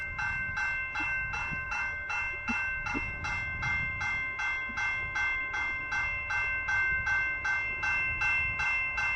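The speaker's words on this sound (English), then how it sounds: "I think this is a CP train!" A CP (Canadian Pacific) freight train approaches a level crossing in late autumn, announced by a steady, evenly paced crossing signal bell ringing about twice a second throughout, over a soft low rumble, with no talking.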